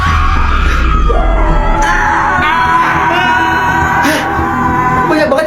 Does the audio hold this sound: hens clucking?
no